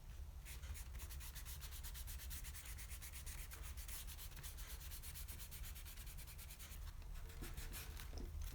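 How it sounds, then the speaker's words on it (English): An eraser rubs out pencil lines on watercolor paper, producing a steady, faint scratchy friction texture with quick back-and-forth strokes throughout, close and alone without talk. "Now I'm going to use my eraser to remove the pencil lines."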